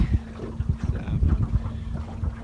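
A small boat on an electric-only dam moves along on its electric motor, which gives off a faint steady hum beneath gusty wind buffeting and soft water splashes close by.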